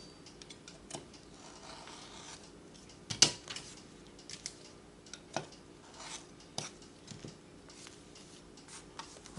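A blade cuts fabric along a template while a hot pad is made, giving faint, irregular scraping clicks and short cutting strokes spread across a quiet background.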